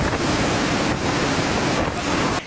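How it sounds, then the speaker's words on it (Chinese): A strong gusty wind batters the microphone outdoors, roaring in a steady, loud rush with small surges, and it lasts for about two and a half seconds before it drops away. "一阵强风来袭"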